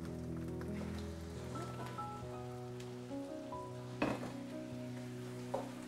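About a kilogram of pork cooks in massaman curry paste in a pan, giving a soft, steady sizzle with a couple of brief clatters, faint and continuous over a background hum.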